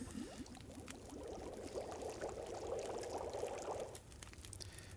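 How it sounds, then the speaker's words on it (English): A liter of water boils in The Long Dark, giving a faint, steady bubbling and pouring rush that swells for several seconds and then drops away, with no speech over it. "We'll boil that liter of water."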